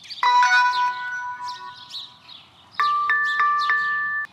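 A Soliom smart bird feeder camera plays its startup tones when powered on: a short rising sequence of bright electronic chimes, a pause, then a second run of clear chime notes, close and alone.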